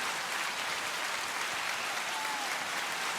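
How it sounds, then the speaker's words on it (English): A round of applause on a sports-chat podcast plays as a soft, uniform patter of many hands clapping, steady and fairly quiet for about three seconds. "Can we get a round of applause for that?"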